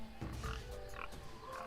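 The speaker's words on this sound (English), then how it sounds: "That sounds like boar." Grunting, croaky animal calls of a boar in the Tales of Monkey Island adventure game, a few rough bursts over a steady low game ambience, no talking.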